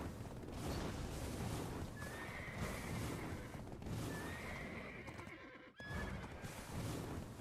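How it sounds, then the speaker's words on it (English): A Krugdalo horse in Black Desert Online whinnies several times over clip-clopping hooves and a dense game soundscape, loud and close, with a brief dropout near the end. "Oh, you're a Krugdalo horse."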